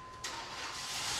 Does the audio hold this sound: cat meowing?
no